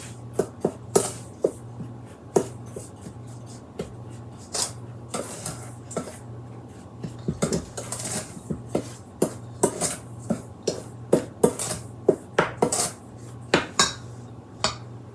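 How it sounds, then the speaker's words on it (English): Dry blueberry lemon muffin mix is stirred in a bowl, with a long series of close, irregular clinks and scrapes of a utensil against the bowl over a low background hum. "we're going to give our dry mix a stir"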